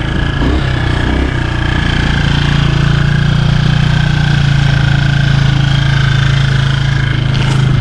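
A motorcycle engine runs steadily and loudly up close, holding a low rumbling idle throughout with no voices.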